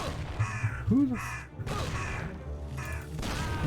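Within the Mafia video game, a crow caws several times in a row, fairly loud and close, with rough, croaking calls separated by short pauses.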